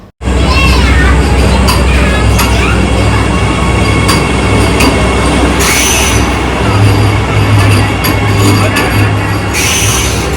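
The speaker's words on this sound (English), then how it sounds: "the Vande Bharat Express just zooms in front of our eyes" A Vande Bharat Express train rushes past close by at Chandigarh railway station, a loud, continuous roar of rolling stock with brief squeals and clatter, station voices faintly underneath.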